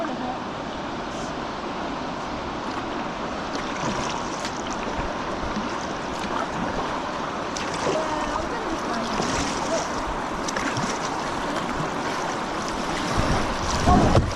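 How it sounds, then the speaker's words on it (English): A kayak runs down river rapids, its hull scraping and bumping over rocks amid steady rushing water and wind noise, with occasional louder knocks, and people talking over the churn. "Yeah, we're going over some rocks."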